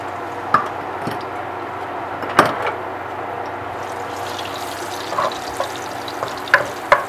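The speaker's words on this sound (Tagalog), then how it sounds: "Habang hinihalo po natin ang bawang, unti-unti po natin tansyahin na namumula ang bawang" Steady sizzle of garlic frying in oil in a hot pot, with occasional scrapes and clicks from stirring.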